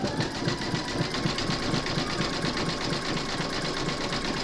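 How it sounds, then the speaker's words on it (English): An embroidery machine stitches a satin zigzag edge on an appliqué, a steady rapid mechanical whirring and ticking that runs continuously with no voices. "you're going to stitch round number 6, and that's going to zigzag the edge"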